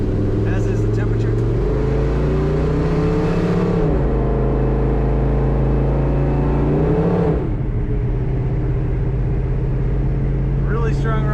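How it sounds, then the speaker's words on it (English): A 1971 Chevrolet Chevelle Malibu 454 convertible drones steadily from its exhaust while cruising, a loud, continuous low rumble whose pitch shifts with gear changes and throttle, with road noise throughout. "Really strong runner, excellent exhaust sound."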